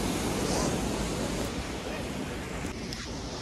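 A waterfall in Jibhi roars as a steady, broad rush of water, loud and close, with wind buffeting the microphone and no distinct voices.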